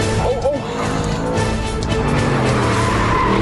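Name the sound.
Audi R8 engine on a racetrack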